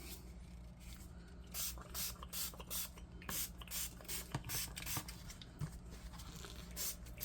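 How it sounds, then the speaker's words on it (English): Dye is sprayed onto fibers in a series of quick, soft hissing spritzes, repeated in an uneven rhythm at close range and fairly faint overall. "And just spraying like an area of it."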